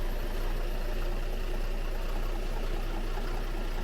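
A Nordic Tug 37 trawler's main diesel engine runs at a steady idle just after starting, a dense, constant low rumble with broadband mechanical noise and no talk over it.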